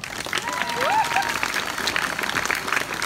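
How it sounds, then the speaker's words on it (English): An audience claps in a partial, steady round of applause at a live whip-cracking show, with a faint whistle-like tone and murmuring voices mixed into the clapping. "not quite everyone applauded"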